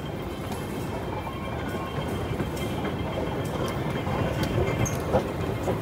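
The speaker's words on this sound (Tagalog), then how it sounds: "Baka nandiyan na yung train." A train pulling into a Hong Kong MTR station, with a steady rumble of wheels and rails that grows gradually louder over the busy hum of the platform, and no talk.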